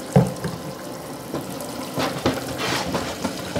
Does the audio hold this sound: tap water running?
yes